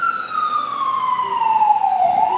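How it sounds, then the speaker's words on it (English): An ambulance siren wails loud and close in a single long, steady tone that slowly sweeps downward in pitch, with traffic rumble underneath. "This ambulance has stopped right in front of me."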